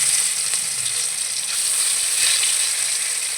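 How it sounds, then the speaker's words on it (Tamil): Marinated chicken leg pieces fry in hot oil, giving a steady, dense, loud sizzle that holds evenly throughout with no voices over it. "மேரினேட் பண்ண சிக்கன் லெக் பீஸை நம்ம ஒன்று ஒன்றா போட்டு எண்ணெயில் போட்டு ஃப்ரை பண்ணிடலாம்"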